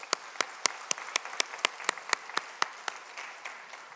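Church congregation applauding during a Sunday service, heard as a sparse, fairly faint clapping that falls into a steady rhythmic beat of sharp claps, roughly four per second, with no voices over it.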